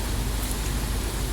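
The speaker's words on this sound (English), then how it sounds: "Last Midland train with an extremely lot amount of rain." Heavy rain pours steadily at a train station on the closing day of the Midland line's last train, a dense, even hiss with no breaks and no voices.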